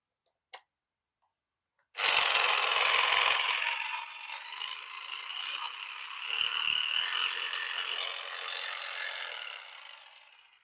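A Japanese-import 230 V electric drill runs close and loud for about nine seconds after a brief click, its high whirring motor wavering slightly in speed, with no talk over it.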